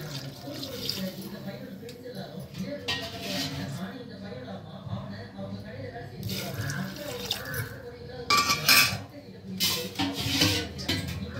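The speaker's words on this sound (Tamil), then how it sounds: "சூப்புக்கு தேவையான அளவு நம்ம தண்ணி ஊற்றிக்கலாம்" Water poured into a pot for mutton breastbone soup, a splashing, trickling stream rising in bursts, close by while a person talks over it.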